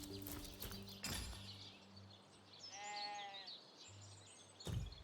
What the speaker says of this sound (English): Okay, so there's sheep here